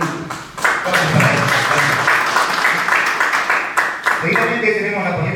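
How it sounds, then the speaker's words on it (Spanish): Audience applause at a Peruvian political training session of the Avanza País party in Cusco, steady dense clapping filling the room for several seconds with a voice speaking over it near the end. "Fuertes aplausos, por favor"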